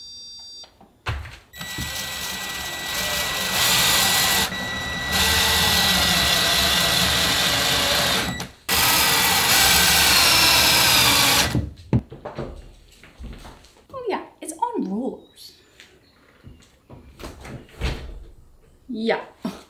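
A power drill drives anti-tip bracket screws into a wall stud during a home DIY furniture install, two long loud whirring bursts with a brief pause between, then knocks, clatter and people talking.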